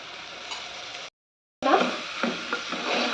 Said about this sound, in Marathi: हा तांदूळ चांगला ना फोडणीमध्ये असं परतून घ्यायचं आहे